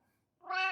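A cat gives a single short meow close by, rising after a near-silent pause, clear and brief with no purring evident.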